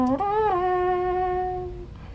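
A voice imitating a trumpet for a beat: one hummed brassy note that slides up in pitch twice, then holds steady and fades, close and fairly quiet, with no other sound.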